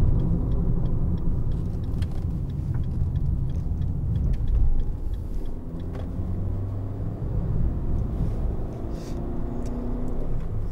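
A 2016 Fiat 500 1.2 Lounge three-door engine runs through the gears on the road, a low, moderate in-car rumble with gentle rises and dips as revs change, plus faint cabin ticks and knocks.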